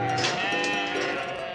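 A sheep on a farm lets out one drawn-out, quavering bleat, fairly close and steady throughout the brief moment.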